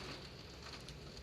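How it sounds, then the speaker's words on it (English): Steady rain hissing down outside a broken-down Rover 45 V6 car during a storm, a dense continuous patter heard from inside without pause. "sheltered from the rain"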